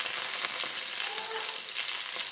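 Curry leaves hit hot oil with cumin and chili, giving a steady, bright sizzle and faint stirring throughout, close up with no voices.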